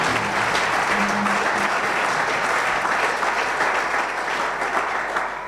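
A church congregation bursts into sustained, loud applause, a dense wash of clapping with some cheering mixed in that holds steady for several seconds before easing slightly at the end.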